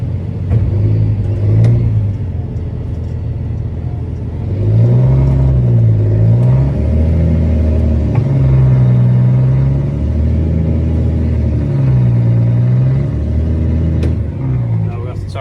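A tractor straining to pull a stuck baler free, its engine revving in rising and falling surges as the tyres spin, loud and close with a voice talking over it.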